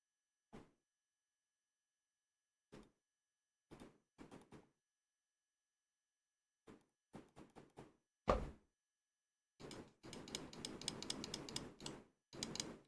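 Computer keyboard keys click in isolated taps and short clusters against near silence, then settle into a brief run of rapid, continuous typing near the end.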